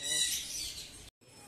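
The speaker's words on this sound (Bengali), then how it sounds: "আর এখানে অনেকগুলো পাখি আছে গাইস" Many caged birds at a small roadside park chirp and tweet together in a dense, bright chorus, fairly close and steady, then cut off briefly before resuming.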